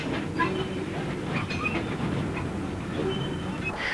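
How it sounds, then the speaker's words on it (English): A Bullard Q1 steam locomotive and a small Terrier tank engine pass each other at Robertsbridge, giving a steady, loud rumble of rolling rail wagons with faint clanks and squeals through the whole stretch. "At Robertsbridge, a Bullard Q1 passes the Little Terrier."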